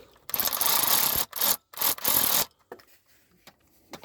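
A wrench ratchets out a transmission bolt in quick bursts of scraping clicks, three close rhythmic runs, followed by faint scattered metallic taps.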